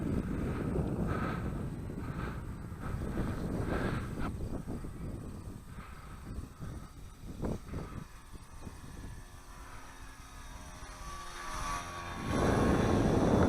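A 148% scaled FliteTest Versa Wing RC plane flies overhead. Its propeller gives a faint, wavering drone that rises and falls as it passes, mixed with wind buffeting on the microphone.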